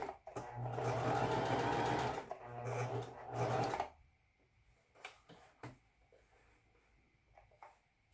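Singer M3220 sewing machine stitching in a rapid steady whir for a few seconds, pausing briefly and running again, then stopping, leaving faint handling clicks and rustles of fabric.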